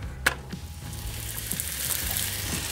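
Steady sizzle of a tortilla toasting in a hot oiled pan, close up, with a faint clink at the start.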